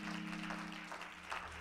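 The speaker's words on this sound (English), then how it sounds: "give the Lord a hand clap of praise" A church congregation claps hands in praise during a Bible study gathering, a soft, steady patter of many hands heard at a distance under a low sustained hum.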